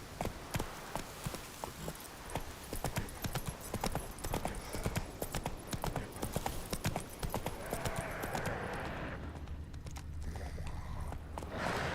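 Horse hooves clip-clop steadily along a road in The Witcher 3, a busy rhythmic patter of footfalls with occasional faint voice.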